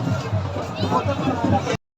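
Dense crowd babble of many overlapping voices outdoors, steady and moderately loud, cutting off abruptly at the end.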